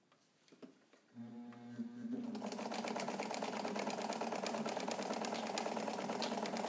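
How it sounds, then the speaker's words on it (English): A Necchi BU Nova sewing machine stitching through four layers of heavy fabric: a few faint clicks and a short hum, then the motor ramps up into a steady, fast, rhythmic needle chatter that runs loudly to the end. "run four layers of a pretty heavy fabric through this machine so you can see it behave"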